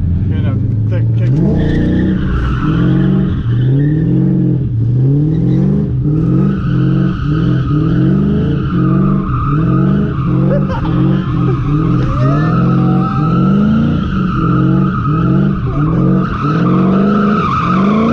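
Car drifting with a clutch kick in second gear: a loud, continuous engine roar with repeated revving surges and tire squeal throughout, while people talk over it.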